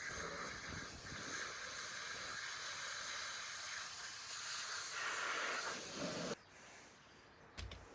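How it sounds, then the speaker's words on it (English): A water jet blasts gunk off a part from an Indesit IDC75 tumble dryer, a steady rushing hiss for about six seconds before it cuts off, followed by faint clatter. "I'm just going to give it a jet blast just to get rid of all this gunk along here"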